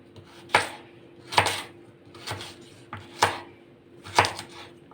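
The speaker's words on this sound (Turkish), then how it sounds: "Şu şekilde uzun uzun jülyen şekilde doğrayacağız havuçlarımızı pilavımız için." Knife chopping carrots into long julienne strips for Uzbek pilaf, five sharp, evenly spaced cuts against a board, close and clear with no talking.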